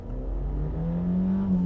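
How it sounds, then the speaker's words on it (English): A Ford Sierra Sapphire Cosworth, 285 horsepower and unmodified, accelerates hard in a racing video game at a speedway, its engine note climbing steadily in pitch as it revs, loud and close, with no talk. "285 horsepower, unmolested, Ford Sierra Sapphire Cosworth"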